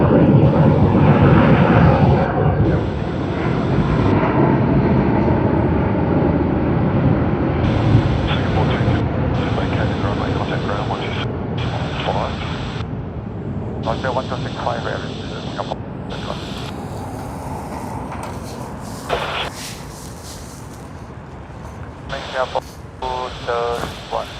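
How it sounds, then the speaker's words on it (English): An Airbus A380 airliner landing at Sydney Airport, its broad engine roar loud and steady at first then slowly fading, with other noises and brief bursts overlaid toward the end. "That's the last A380 that we saw landing out here for today"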